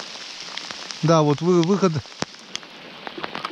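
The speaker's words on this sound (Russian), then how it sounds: "Надеюсь, скоро дождь прекратится." Rain falls steadily at a forest stream, giving a constant soft hiss with scattered drop ticks while someone speaks briefly.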